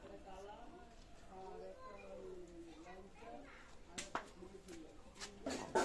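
Benaras pigeons coo softly in low, rolling phrases, fairly faint, followed near the end by a few sharp clattering knocks.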